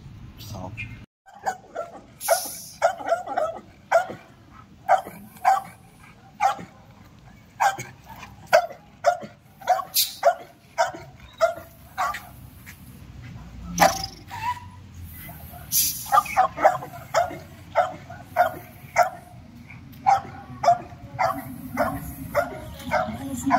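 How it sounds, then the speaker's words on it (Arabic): Guard dogs under training bark in repeated sharp bursts, loud and close, with a person speaking intermittently between and over the barks. "فانا بدرب الكلب على الحراسه"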